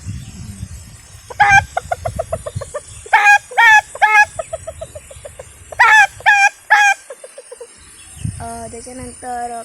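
A person mimics a rooster crowing with several loud, strained bursts, interspersed with clucking-like vocal sounds and quiet pauses.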